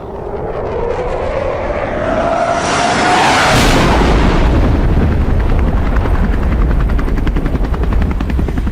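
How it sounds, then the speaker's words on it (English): A helicopter roars overhead, its rotor thumping loud and close as the engine whine sweeps past and then settles into a steady chop. "Here come the helicopters."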